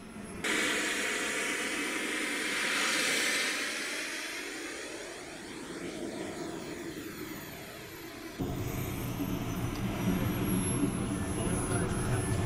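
A radio-controlled model jet aircraft's turbine roars steadily as it takes off, with a broad hissing whine that slowly shifts in pitch and then jumps louder near the end, continuous and fairly close.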